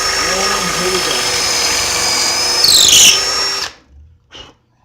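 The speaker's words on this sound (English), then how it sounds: "I'm gonna attempt to begin to drill" A power drill drives through wood held in a Kreg Jig Mini pocket-hole jig, a loud steady whine that rises in pitch near the end, then stops abruptly, leaving a few faint clicks.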